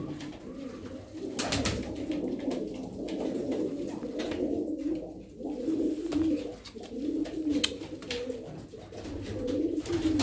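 Several pigeons, Sabuni breed, cooing steadily with low, throaty rolling calls, overlapping and continuous, fairly close, with faint clicks and rustles in the background.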